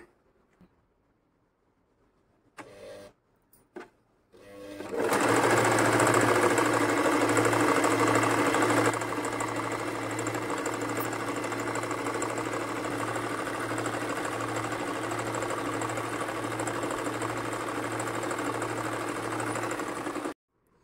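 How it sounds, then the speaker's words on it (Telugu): A Singer M3505 sewing machine sews a decorative stitch with a fast, steady mechanical whir and rapid needle chatter that runs loud and close for about fifteen seconds, after a few brief clicks and handling sounds. "ఇప్పుడు ఈ ఫస్ట్ మోడల్ స్టిచ్ చేసి చూద్దాము."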